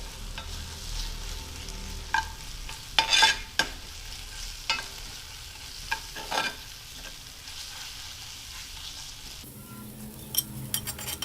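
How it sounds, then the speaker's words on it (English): Onions fry with ginger garlic paste in a pan, giving a low continuous sizzle with occasional bursts of spatula scraping and clinks against the metal, heard close with no voices. "Braise these onions well and mix it well with the ginger garlic paste so that this raw taste of it goes away."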